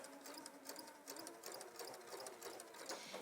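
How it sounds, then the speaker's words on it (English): Sewing machine stitching the waistband of a Jo garment, a fast rhythmic needle chatter running continuously at low volume, without speech. "I'm going to just start stitching a little bit further in"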